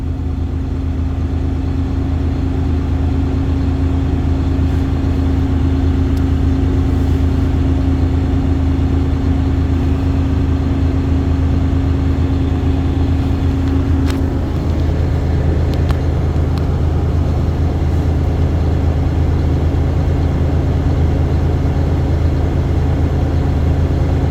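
A truck engine is held at high revs to charge the air brakes up to the governor, a loud, steady drone that runs throughout, with a faint hiss and clicks in the second half.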